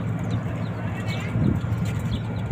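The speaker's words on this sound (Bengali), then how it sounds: "পাশে কবুতর" Pigeons on a rooftop give low, soft cooing under outdoor background noise, with faint bird calls.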